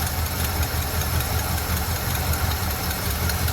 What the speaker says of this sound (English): Hear that little tick tick from the exhaust.